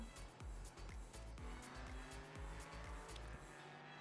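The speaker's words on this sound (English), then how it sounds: "Oh, here comes an LMP. You can hear it before you saw it." LMP3 prototype race car in iRacing at Oulton Park, a loud, revving engine with a rapid series of upshifts that steps the pitch up and down as the car goes by, close and alone.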